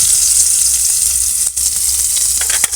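Chopped onion lightly frying in oil in a wok, a loud, close, continuous crackling sizzle with a couple of brief stirring disturbances, no voices.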